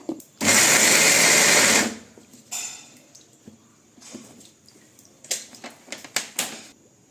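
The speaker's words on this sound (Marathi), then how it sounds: "आता ते मिक्सरला बारीक करून घेऊया।" A mixer grinder pulverising peanuts and green chillies, a loud steady whirring burst lasting about a second and a half, followed by a brief second pulse and scattered clinks of the jar and lid.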